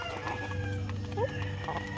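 Free-range farm chickens cluck and murmur in a steady close flock, with a brief higher call standing out near the middle over a constant low background hum.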